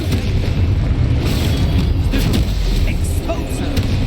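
A Confringo fire spell blasts in the video game Hogwarts Legacy. Deep, rumbling booms roll continuously over dense game sound, loud and close throughout.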